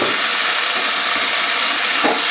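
Taro stolons tipped into a hot pan with chili, turmeric and salt, setting off a loud, continuous hiss and sizzle of frying, with a faint clink of utensil near the end.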